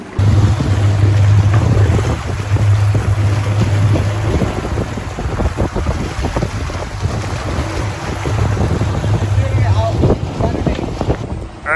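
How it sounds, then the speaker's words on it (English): Strong wind buffets the microphone steadily on a boat heading back to harbor offshore, with a low engine drone, splashing water and hull noise mixed in, loud and continuous throughout. "you can tell it's wind's picking up a little bit, so time to head in"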